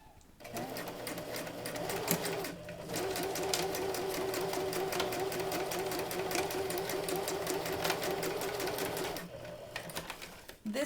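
A sewing machine runs a steady zigzag stitch over overlapped elastic on a pencil skirt, whirring continuously and loud for several seconds with brief pauses at start and end.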